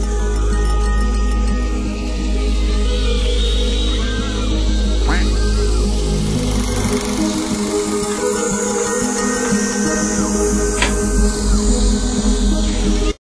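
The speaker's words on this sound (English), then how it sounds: "Quack." Duck quacking cuts through a dense, loud, steady wash of noise and buzz that runs the whole time, with quacks scattered through it rather than standing alone.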